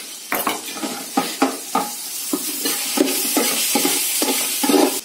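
Prawns fry in a pan as a spoonful of ginger garlic paste is stirred in. A spoon scrapes and clinks against the pan in repeated strokes over a close, steady sizzle, with no talking.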